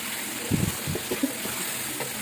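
Chicken karahi curry sizzles steadily in the pan while being fried, a continuous soft crackle with a few louder stirring bursts, no voices.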